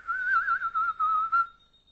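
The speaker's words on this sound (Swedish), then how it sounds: "En som visslar på hund." A person whistles in short repeated bursts as if calling a dog, a steady mid-pitched tone pulsed in several quick blasts before trailing off into quiet.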